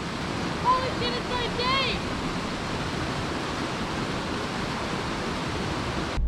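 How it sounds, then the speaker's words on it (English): The Beechworth Cascades on Spring Creek make a steady, close broadband rush of falling water with little variation, and a few faint chirps or whistles drift over it early on. "Just passed over a bridge and saw this beautiful cascade."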